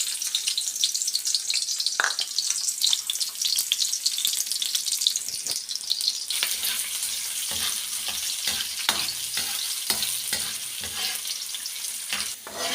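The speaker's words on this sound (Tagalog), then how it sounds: "ibuhos natin yung luya, bawang, sibuyas" Ginger, garlic and onion sauté in a pan for a mung bean dish, with a bright, crackling sizzle that turns busier partway through as repeated stirring scrapes and clacks join in.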